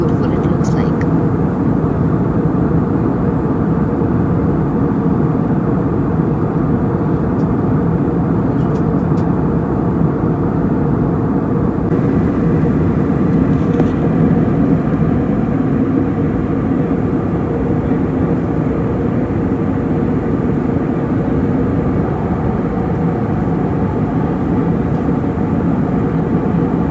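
Steady loud roar of a jet airliner's engines and rushing air as it lands at Doha International Airport, heard from inside the cabin and continuing unbroken throughout.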